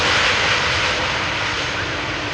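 Airliner landing at Amsterdam Schiphol Airport, its engine roar steady and loud throughout, a broad continuous rush with no talk over it.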